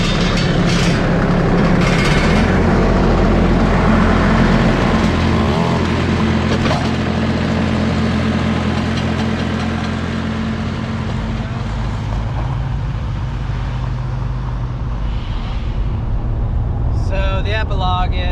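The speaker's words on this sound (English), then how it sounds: "Put the skid steer there with the claw." A skid steer with a claw attachment runs while moving a big log round on a tree-felling job. Its steady low engine rumble drones throughout the clip, and a few clicks are audible near the end.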